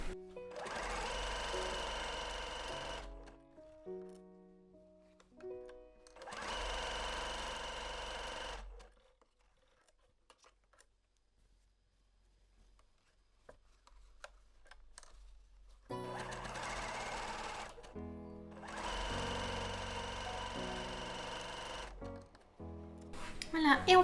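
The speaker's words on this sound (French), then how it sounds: "on va faire une petite couture en zigzag sur les 3 coutures afin de renforcer tout ça" Sewing machine running a zigzag seam to reinforce a fabric pouch. It whirs steadily in several loud bursts of a few seconds each, separated by quiet pauses, with a voice talking between the runs.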